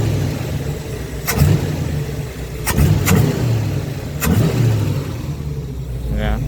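A 1971 Chevy Camaro engine idling roughly and then revving in a few sharp blips, heard nearby with a steady rumble underneath and people talking over it.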